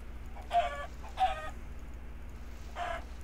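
Three short bursts of chicken clucking from a white chicken in the Minecraft Village Defender mod, evenly spaced over a low steady hum, with a pause before the last cluck.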